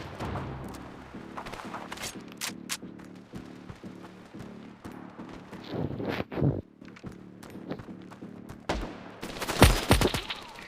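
Gunfire in the mobile shooter Standoff 2, with bursts of sharp shots and clattering rounds amid footsteps and gear rustles, growing denser and loudest in a heavy volley near the end.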